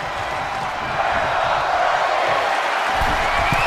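A steady, dense roar of an arena crowd in Houston, Texas, in the WWE 2K22 wrestling game, continuous and fairly loud throughout with no distinct peaks.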